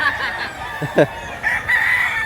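Rooster crowing at close range on a farm in Mantalungon, Barili, Cebu, with short clucking calls from chickens around it.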